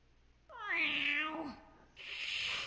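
A person imitates a cat with a strange, drawn-out, wavering meow at a tabletop role-playing game session, followed by a hissing breathy sound, close and alone.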